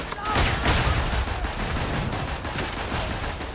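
Dense gunfire from the WWI shooter game Verdun on the Argonne map, a continuous fusillade of overlapping rifle and machine-gun shots that stays loud and steady throughout, with no one speaking.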